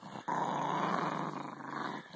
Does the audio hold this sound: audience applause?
no